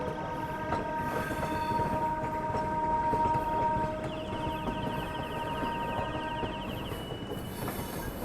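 The Kongu Express arrives at a station, heard from on board: a loud, steady rumble of rolling wheels and carriages with sustained tonal whines and a high metallic squeal as it slows.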